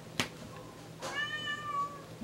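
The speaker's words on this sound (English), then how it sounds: "My cat's been meowing literally all night" A pet cat meows twice indoors, a short sharp cry followed by a longer, drawn-out meow, close and fairly quiet, with no talking.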